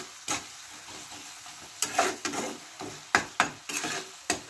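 Onions with salt and spices for Bengali egg pulao, stirred in a hot pan: a steady sizzle broken by about a dozen sharp scraping strokes of a spoon, close and clear.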